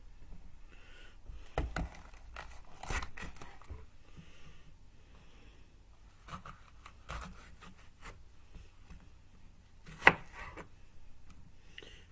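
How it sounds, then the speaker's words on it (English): A knife chops a pepper on a cutting board in sparse, quiet thuds spread out over time, with one sharper knock standing out. The cutting sounds close and faint, with no talking. "I'm gonna show you how I chop everything up and how I cook it."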